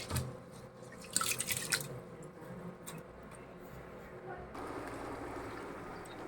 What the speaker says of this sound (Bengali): চাউলগুলো ধুয়ে এখন দিয়ে দিব।